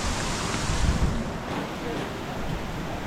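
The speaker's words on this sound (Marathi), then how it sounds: "पाणी कंटिन्यू वाहत आहे त्याच्यामुळे." Rain-fed water rushes steadily along a muddy jungle trail to Gupt Bhimashankar during a night trek, a continuous broad wash of noise with wind-like roughness and no breaks.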